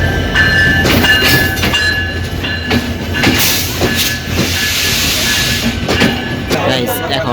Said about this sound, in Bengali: পঞ্চগড় থেকে ছেড়ে আসা ঢাকা অভিমুখে পঞ্চগড় এক্সপ্রেস ট্রেনটি সান্তাহার জংশনে পৌঁছেছে